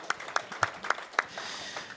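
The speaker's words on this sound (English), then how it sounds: "Big round of applause for Miles Johnson." Sparse applause for a surfer guest at the Petersen Automotive Museum, with about five distinct claps at an even pace, fairly faint, followed by a softer crowd murmur.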